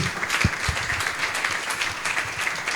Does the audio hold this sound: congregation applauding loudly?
yes